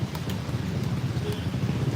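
Light rain falls in the Philippines as a soft, steady hiss and patter with low rumbling traffic-like noise underneath, faint and continuous.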